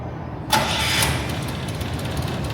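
A car engine runs steadily at idle at a red light, a low continuous rumble with a brief louder surge near the start, then settling into an even hum.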